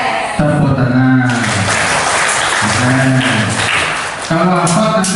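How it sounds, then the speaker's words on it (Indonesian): An audience claps at a spiritual soft-skills training session. The clapping comes as broad, sustained bursts with voices audible over it. "tepuk tangan"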